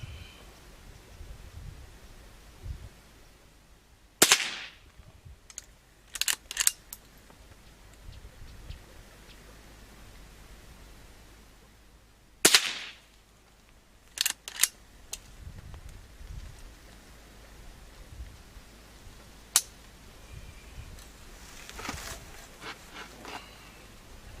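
A Henry Silver Eagle .22 carbine fires a few sharp, isolated cracks spaced several seconds apart, with quieter clicks and handling noise between shots in an otherwise hushed outdoor setting.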